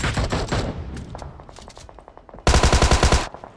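Automatic weapon fire in PUBG Mobile: a loud rapid burst at the start, a thinner run of shots fading after it, then another sharp close burst of rapid gunfire near the end.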